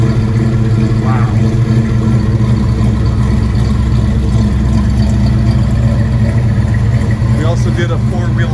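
A 1973 Chevrolet Nova SS tribute with a 427 Turbo Jet V8 and a 400 Turbo automatic sends out a loud, steady, deep rumble close by. The low idle throbs throughout, with a voice briefly heard over it.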